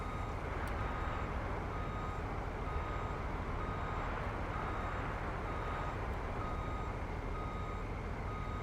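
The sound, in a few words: truck reversing beeps in Farming Simulator 19 video game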